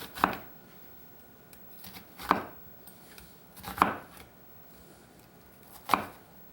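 A knife chops through an onion on a cutting board with four crisp, separate strikes at uneven intervals, close and clear over a quiet room, with no talking.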